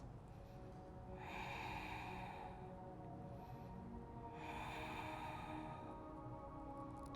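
Slow, audible breathing during a vinyasa yoga session, two long airy breaths rising and fading over a steady background hum, fairly faint and without talk.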